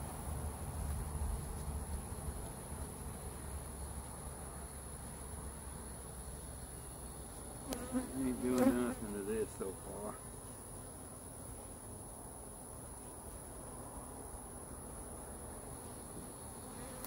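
Honeybees buzz steadily around an open hive, a constant close insect drone with a brief louder burst of movement midway and no talking.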